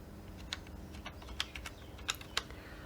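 A computer keyboard being typed on as a one-time code is entered, several sharp, separate key clicks spaced irregularly over a low steady background hum, close and fairly faint.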